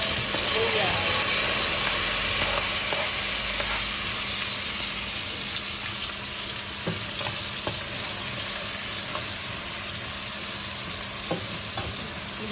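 Onion and garlic sautéing in a hot pan for Filipino pakbet with pork and shrimp, a constant loud sizzle with occasional scrapes and clinks of stirring.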